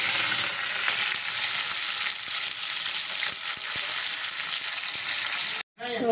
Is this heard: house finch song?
no